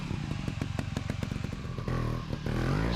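A motorcycle works its way up onto a rock with clutch control, its engine chugging in quick, even pulses while gravel and metal clatter. Near the end the revs climb into a steadier, louder drone.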